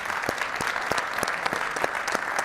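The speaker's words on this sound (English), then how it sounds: "let's have a round of applause for all of our candidates" An audience at a Santa Fe mayoral candidates' forum claps steadily, a close, dense burst of applause with distinct individual claps throughout.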